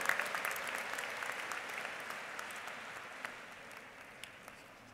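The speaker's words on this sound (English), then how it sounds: "Let's give a round of applause to our Executive Master of Health Administration graduates," A commencement ceremony crowd applauds steadily, a dense patter of clapping that slowly thins and fades over a few seconds.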